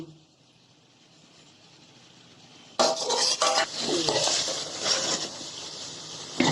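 A spoon scrapes and stirs beef in a pot with potatoes in quick, uneven strokes with a faint sizzle, starting abruptly after a quiet stretch and continuing close up.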